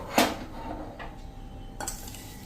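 Churma ladoo mixture being stirred with ghee in a bowl gives two or three sharp utensil clinks against the dish, quiet and close, with a soft scraping between them and no talking.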